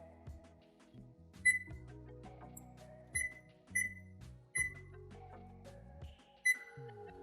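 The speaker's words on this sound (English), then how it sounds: "let's get this oven heated up" A countertop air fryer oven starting to preheat, giving several short electronic beeps at irregular intervals over low humming and clunking from the appliance, close by with no talking.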